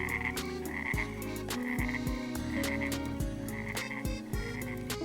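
Frog croaking sounds in a cartoon-like story setting, loud and repeated in a steady rhythm over bright background music, with no talking.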